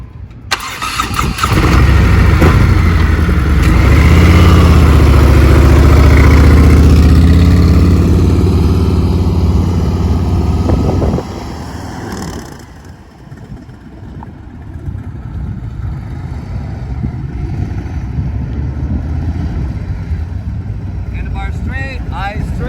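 A heavy cruiser motorcycle's engine rumbles loudly and steadily as it comes to a stop, then drops sharply to a quieter, low idle for the rest of the stretch.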